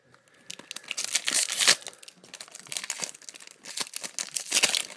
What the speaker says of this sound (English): Can't open this pack at all.